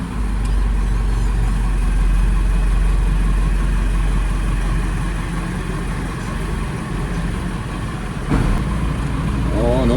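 A Case 3075 tractor engine runs steadily at close range, a deep continuous idle-to-working drone with a slight shift near the end, heard alone without talk.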